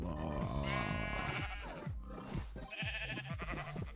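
Minecraft sheep bleat in short wavering calls over game background sound and a man's speech, several bleats repeating through the stretch.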